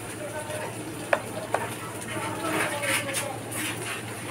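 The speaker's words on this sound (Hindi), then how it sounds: "जितनी देर हमारी अरबियाँ फ्राई होती हैं" Taro root (arbi) frying in a pan gives a soft, continuous sizzle, with two sharp clinks early on and a faint background hum.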